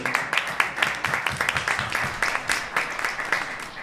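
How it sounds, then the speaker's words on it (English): Audience applause for speakers at an investment and financing forum in Manhattan, a steady stream of many hands clapping at fairly close range, with faint voices mixed in. "give one big round of applause for all our speakers for making all this happen"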